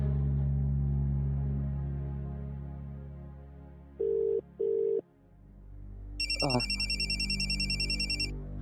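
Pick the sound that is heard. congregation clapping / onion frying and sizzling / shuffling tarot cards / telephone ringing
telephone ringing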